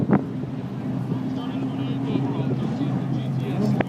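Race cars at the start of the St. Petersburg race roll past behind the official pace car, a steady engine drone under wind buffeting, with people talking nearby.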